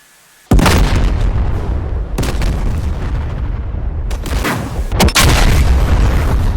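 Bomb blasts hit a ground target in the DCS World flight simulator, a loud sustained rumbling boom followed by further heavy explosive bursts and rolling roar.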